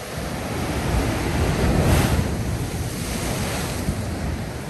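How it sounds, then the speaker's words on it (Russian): Large sea waves break along the shore at Lazarevskoye, Sochi, a continuous heavy roar and wash that swells in the middle, with gusting wind buffeting the microphone and no voices. "В принципе, где большая волна, там всегда красиво."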